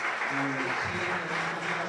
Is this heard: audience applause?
yes